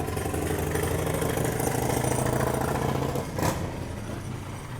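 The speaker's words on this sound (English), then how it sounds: "Sorry about the motorcycle, guys." A motorcycle engine idles nearby with a steady, loud mid-pitched rumble that runs throughout, with a brief bump in revs near the end and no talking over it.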